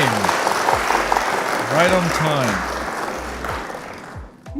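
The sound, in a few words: round of applause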